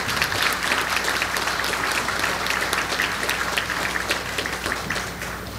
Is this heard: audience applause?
yes